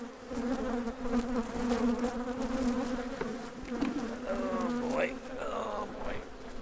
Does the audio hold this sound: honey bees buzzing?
yes